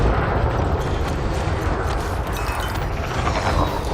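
Ships trading weapon fire in a space combat in Elite: Dangerous, heard as a dense, continuous wash of loud rumbling blasts and crackle with no clear gaps between shots.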